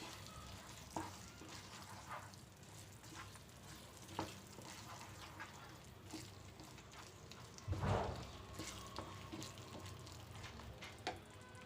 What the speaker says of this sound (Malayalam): എല്ലാം കൂടി നല്ലതുപോലെ ഒന്ന് ഇളക്കാം.